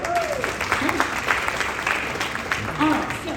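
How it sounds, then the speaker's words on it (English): A school concert audience breaks into a round of applause, a steady wash of clapping at moderate volume, with faint voices rising briefly within it. "Another round of applause"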